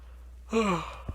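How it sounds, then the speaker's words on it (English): A single breathy yawn, voiced and drawn out, rising and then fading, close to the listener, followed by a soft thump. "Sorry, yawn."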